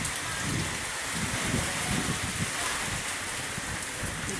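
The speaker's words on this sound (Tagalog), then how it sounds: "Ang ulan." Heavy rain falls during a typhoon, a steady, close hiss of drops pattering on surfaces that stays loud and even throughout, with no talking.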